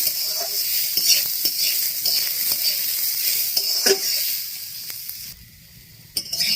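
Masoor dal is stirred in hot oil, a gentle continuous sizzle broken by light spoon taps and scrapes against the pot, close up, fading slightly near the end before a final clink.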